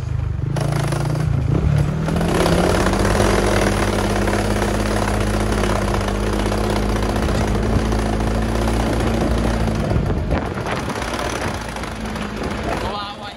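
A motorcycle engine runs steadily at close range, a low droning hum with clattering mechanical noise, holding constant before dipping briefly near the end.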